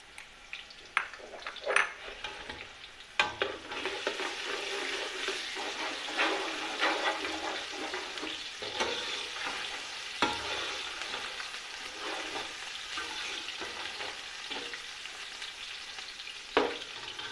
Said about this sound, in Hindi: इसमें लहसुन अदरक का पेस्ट डालने लगे।